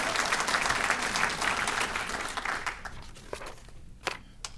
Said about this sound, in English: let's give them a round of applause for what they do as well